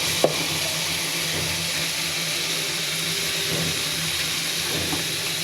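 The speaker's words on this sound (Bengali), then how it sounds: "মশলাটা সুন্দর করে কষিয়ে নিতে হবে, তাহলে আর কাঁচা ফ্লেভারটা থাকবে না" Masala spice paste frying in oil for a Bengali eel (baim fish) curry, a steady soft sizzle and hiss throughout, close and even, with a faint clink of a spoon near the start.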